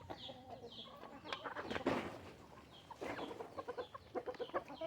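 Several Rhode Island chickens cluck and murmur nearby in short, irregular bursts, fairly quiet, with no one speaking.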